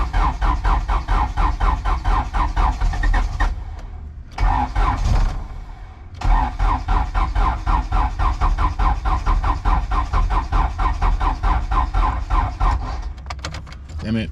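A turbocharged H2B engine, recently given a coil-on-plug conversion, is cranked on a weak, low battery. The starter churns in steady rapid pulses for several seconds, pauses briefly, then grinds on again loudly without the engine catching.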